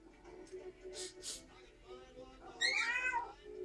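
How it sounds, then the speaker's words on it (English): A young kitten meows several times at close range, short high cries with a louder drawn-out mew near the end, while someone speaks softly over and between them in a quiet indoor room. "I see another baby kitty right here"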